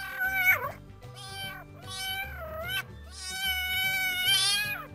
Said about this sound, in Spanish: aquí apretas un botón y parece que el gato habla